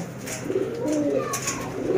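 Pure Sialkoti rooftop pigeons coo steadily in a low, throaty murmur, several birds overlapping at close range with no talk.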